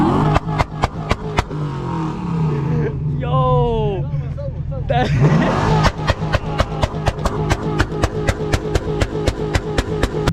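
A loud car engine lopes and revs nearby with rhythmic popping bursts from the exhaust, while people talk and exclaim over it, at a drifting session near Elephant Mountain, AlUla, Saudi Arabia.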